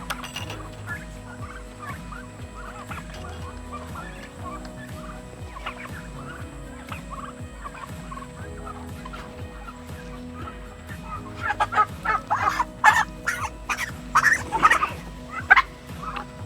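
Chickens on a home farm are being moved onto fresh grass, a flock of soft clucks and chatter that turns into louder, busier bursts of calls in the last few seconds.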